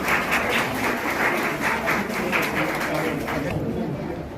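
Audience clapping to welcome teachers at a school farewell ceremony, a brisk, continuous patter of many hands at moderate volume that thins out near the end.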